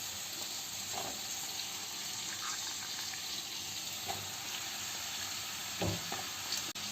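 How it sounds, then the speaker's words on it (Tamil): A steady sizzle of cut eggplant frying in a pan, with occasional stirring clatters and soft pops, close and moderately quiet. "இப்போ நம்ம வெட்டி வச்சுருக்கக்கூடிய கத்திரிக்காயை அதில் அப்படியே எடுத்து போடுவோம்"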